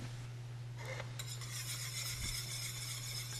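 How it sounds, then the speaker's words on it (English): Utensil scraping and clinking against a pan while mirin butter sauce is stirred for horseradish salmon in a restaurant kitchen, a steady close stirring with light metallic clinks over a low constant hum. "If you'd like me to stir that for you"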